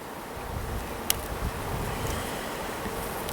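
Honeybees, both drones and workers, drone in a steady low buzz at an open hive during a frame inspection, faint and diffuse with a soft wind-like hiss and a single tiny click.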